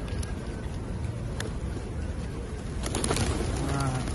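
Flocks of pigeons being fed by pilgrims behind Zamzam Tower in Mecca, with scattered coos and wingbeats over a dense, busy outdoor wash of crowd and wind noise, steady and fairly loud.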